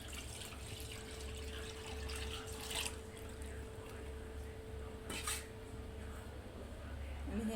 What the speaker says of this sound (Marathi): तर बघू शकता आता 1 लिटर दूध घेतलेलं आहे। आता हे टाकते मी।